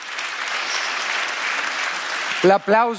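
Audience applause at a live Italian broadcast event, a continuous moderate clapping that fills most of the moment before a voice cuts in near the end.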